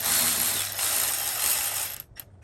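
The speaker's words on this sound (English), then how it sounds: "I'm going to use a deep 10 millimeter socket for that." A ratchet with a deep 10 mm socket loosening a battery cable bolt: a fast, loud, continuous clicking whir close up for about two seconds, then a couple of separate clicks as it stops.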